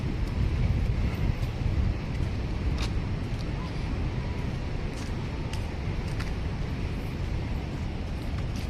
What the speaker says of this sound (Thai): โอ้ลมเย็นดีเด้อ